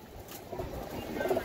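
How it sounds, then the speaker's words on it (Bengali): Several roller and giribaz pigeons, a group of ten kept for sale, coo softly in a steady murmur amid faint background noise. "এখানে 10টা কবুতর আছে"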